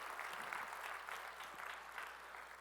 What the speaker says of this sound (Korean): 우리 찬양받으시 주님께 영광의 박수 올리겠습니다